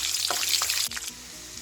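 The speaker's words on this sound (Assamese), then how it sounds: "বাদামটো লাহে লাহেকৈ ভাজিব লাগিব যাতে ভালকৈ ভাজ খায়।" Peanuts fry slowly in a pan with dried chili and bay leaves in a home kitchen for a traditional puja meal. A close, continuous sizzle runs throughout with a short shift partway, and no one talks.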